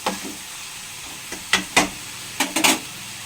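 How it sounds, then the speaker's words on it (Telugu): Cucumber pieces cooking in a pan for a fish curry, a low steady simmering sizzle broken by several sharp bursts of crackle and spatter, close by. "అవి దోసకాయ ముక్కలు కూడా మగ్గుతున్నాయి"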